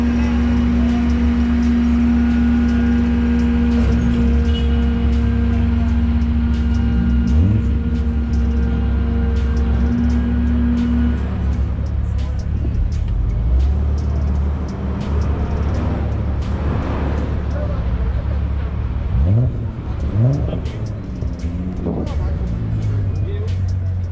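A Volkswagen with a VR engine revs at a V.A.G car meet in Green Market Square, Cape Town, its steady rumbling drone rising in a few throttle blips, with people talking over it and occasional clatter nearby.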